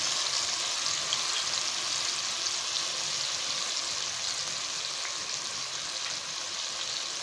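Pointed gourd sizzles steadily in a pan with tomato purée and salt, a constant close frying hiss with faint stirring scrapes.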